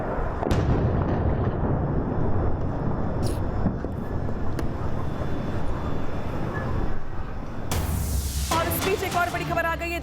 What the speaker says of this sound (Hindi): आईडीएफ की ओर से जोरदार ये धमाका